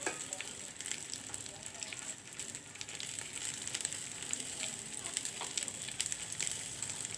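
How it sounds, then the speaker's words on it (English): Basmati rice fries with onions in a pan, giving a steady close sizzle with crackling pops and faint scraping throughout. "fry the basmati rice along with the onions nicely"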